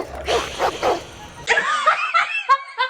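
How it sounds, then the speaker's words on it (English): Dogs bark in a film scene, a few sharp barks and yips in quick bursts, fairly close, the later ones higher and more clipped, mixed with faint laughter-like sounds. "These dogs start barking at her."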